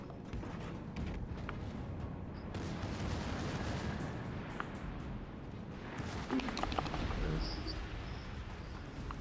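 Battleship guns firing in the naval combat game World of Warships: Legends: a series of dull, heavy booms and cracks over a constant low rumble, with a cluster of sharper shots late on.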